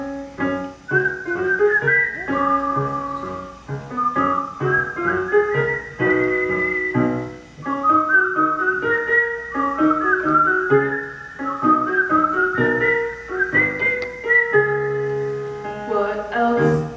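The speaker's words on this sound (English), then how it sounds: "whistling seems to brighten up their day" Several performers whistle a bright, lilting tune in a staged performance of the musical Camelot, the melody running continuously and prominently with clear phrasing and short pauses between lines.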